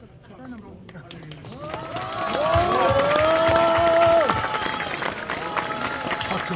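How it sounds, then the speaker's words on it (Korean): At a memorial ceremony, an outdoor crowd breaks into sustained applause that swells and then settles, mixed with scattered voices and a few cheers. "박수 소리가"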